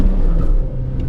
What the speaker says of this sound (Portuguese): O carro vai cantando o pneu até o momento que ele consegue estabelecer tração